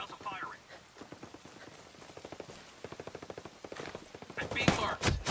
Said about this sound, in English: Hostiles are firing.